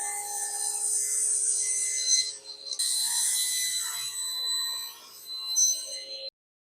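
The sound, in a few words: trimming plywood base with a saw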